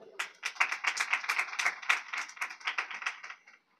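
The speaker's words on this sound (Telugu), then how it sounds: "గట్టిగా చప్పట్లు కొట్టు" Hands clapping in a church congregation during a Sunday Apostolic service, a dense rhythmic burst of many palms striking together at a steady beat for a few seconds, then stopping abruptly.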